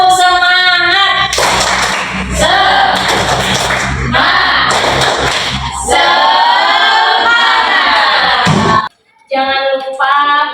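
A classroom of students performing a rhythmic clap chant, loud claps and thumps in patterned bursts mixed with sung or chanted voices, ending with a brief pause and a final burst.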